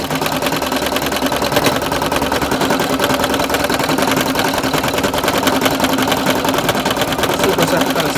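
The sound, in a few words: embroidery machine stitching a design on a shirt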